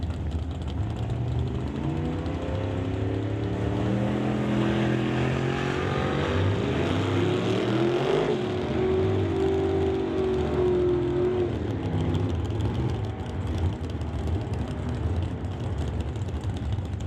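Drag race cars, a 1966 car lined up against a Chevy II, give a loud, steady engine roar that climbs in pitch and sweeps past midway through, heard alone without commentary.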